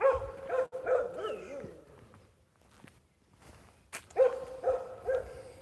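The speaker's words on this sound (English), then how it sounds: "I don't think the dog wants to stop barking" A dog in a village barks in close, repeated bursts, falls quiet for a couple of seconds with faint footsteps, then resumes a quick run of sharp barks.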